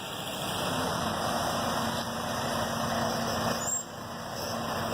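Heavy truck engine idling steadily at close range during a truck driving competition practice, a constant low rumble with a hiss near the end, no voices.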